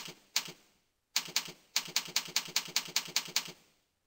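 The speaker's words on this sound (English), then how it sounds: "Type in Java plugin download." Typing on a computer keyboard with rapid, evenly spaced keystrokes in two short bursts, the second a longer run of about a dozen crisp clicks, close and clear with no talk.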